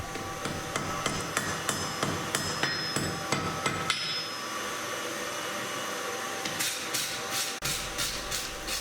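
A blacksmith's hammer forge-welds a lay-down tongue weld on U-box tongs at welding heat: a run of evenly spaced ringing blows, then a steady roaring hiss from the forge with sharp taps returning toward the end.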